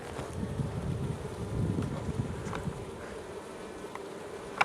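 Honeybees buzz around an opened beehive during a spring inspection, a dense continuous hum with a few individual bees passing close, steady and moderately loud against light wind noise, with no talking.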